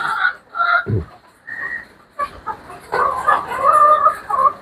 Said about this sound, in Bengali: বন্ধুরা এগুলো আমার এই প্যারেন্টসের মুরগি